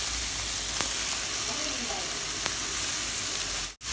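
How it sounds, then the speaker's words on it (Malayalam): Chopped beetroot, onion and green chilli hit hot oil with popped mustard seeds for a Kerala thoran, giving a steady close sizzle throughout with a few sharp crackles, then a sudden brief drop at the end. "കടു പൊട്ടിയപ്പോൾ നമ്മൾ റെഡിയാക്കി വെച്ചേക്കുന്ന ബീട്രൂട്ടിൻ്റെ അരിഞ്ഞതെല്ലാം നമുക്ക് ചേർക്കാം"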